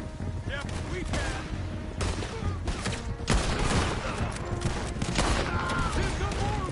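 Gunfire rattles in Red Dead Redemption 2 as a rapid exchange of loud, overlapping shots and bursts, with someone briefly speaking amid the shooting.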